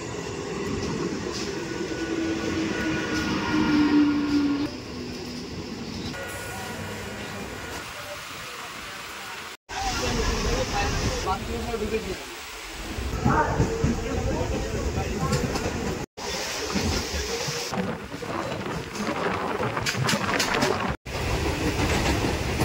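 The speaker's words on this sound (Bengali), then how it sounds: "আর আমাদের ট্রেন ঢুকছে হাবড়া স্টেশনের 2 নম্বর প্ল্যাটফর্মে।" A local train runs into platform 2 at Habra station in West Bengal, giving a steady, loud rolling rumble with wheel clatter that carries on for the whole stretch. Voices and other sounds are mixed in over it, and the sound cuts out briefly a few times.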